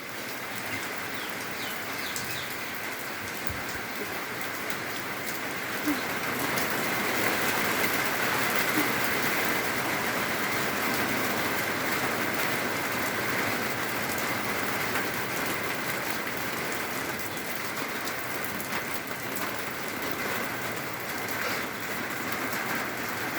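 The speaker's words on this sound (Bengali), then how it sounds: "একটু মনে হয় কমলো একটু বৃষ্টিটা কমলো" Steady rain falling on a Sunday morning outside a house with trees, a continuous dense patter on surfaces that swells slightly after the first few seconds and stays even, with no voices.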